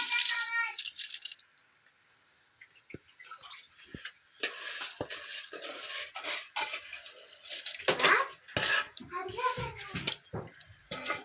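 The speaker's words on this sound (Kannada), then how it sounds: "ಇವಾಗ ನಾನು ತೊಳೆದಿಟ್ಕೊಂಡಿರೋ ಅಂಥ ಅಕ್ಕಿನ ಇದಕ್ಕೆ ಹಾಕ್ತಾಯಿದ್ದೀನಿ" Washed rice for mushroom biryani is poured into a pot of boiling water, making a busy, gritty rattle that comes in bursts, with splashing and metal pot clatter mixed in.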